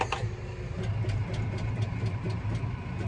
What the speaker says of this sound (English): The noise you can hear when I start it is it's got a soft start on the tractor.